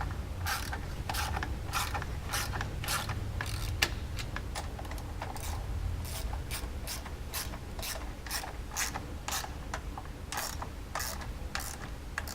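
Bolts on a skid plate on a Wildcat XX are being tightened with a ratchet, giving quick clicking bursts in a steady repeating rhythm, close and clear, with no talking.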